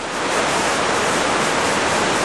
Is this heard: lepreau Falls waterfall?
yes